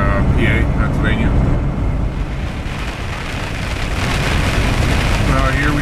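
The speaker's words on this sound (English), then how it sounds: "pretty heavy rain." Heavy rain and high winds batter a vehicle on the highway toward Pennsylvania, a constant loud roar of road and rain noise with someone talking over it.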